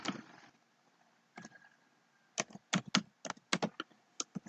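Computer keyboard typing in a quiet room: a short burst, a pause, then a quick run of crisp, close keystrokes in an uneven rhythm.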